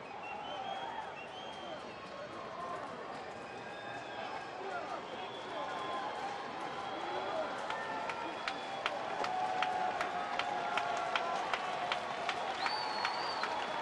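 Small but spirited crowd at a Milwaukee at Chicago Cubs baseball game applauding and cheering, a steady broad wash of noise that swells and grows denser toward the end, with a play-by-play voice talking over it.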